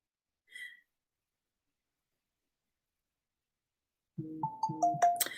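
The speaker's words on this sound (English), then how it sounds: "And there goes my phone." A phone's melodic ringtone starts suddenly after several seconds of near silence and plays clearly and close for the last second or so, following one faint earlier chirp.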